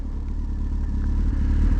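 Engine of a Honda 919 motorcycle runs steadily with a low, continuous rumble and faint mechanical clatter, heard close and loud with no talking.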